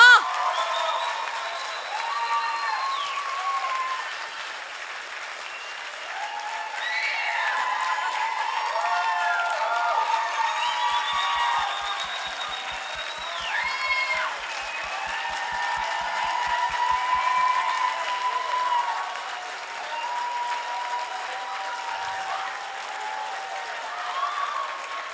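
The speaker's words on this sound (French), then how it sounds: "Une dernière main d'applaudissements pour nos artistes avant le grand dévoilement." Audience at a high school talent show applauding for a long stretch, with steady clapping under many excited voices shouting and whooping from a large crowd, swelling and easing across about twenty-five seconds.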